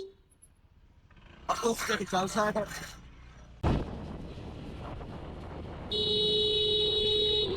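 Raised voices, then a sharp bang and rumbling noise, followed by a long, steady car horn blaring loudly near the end, heard from a motorcycle in traffic.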